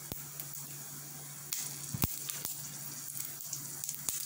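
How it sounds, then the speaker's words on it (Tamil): Mustard seeds and urad dal spluttering in hot oil in a pan while preparing a South Indian pirandai thuvaiyal, with a steady sizzle and scattered sharp pops crackling throughout, no talking. "எண்ணெய் சூடாயிடுச்சு, நான் கடுகு சேர்த்துக்கிறேன்"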